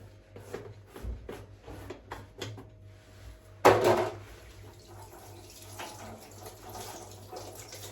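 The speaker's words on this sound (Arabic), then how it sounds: "غسلت يدي من الربيع" Tap water runs and splashes in a home kitchen as hands are washed, with a louder gush midway over scattered clinks and handling noises, close by with no talk.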